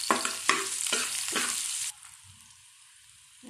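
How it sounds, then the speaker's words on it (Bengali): Garlic frying in a pan with a few quick stirring scrapes over a steady sizzle, which drops to a quieter, fainter sizzle partway through; no voices. "রসুনটা একটু ভেজে দিচ্ছি।"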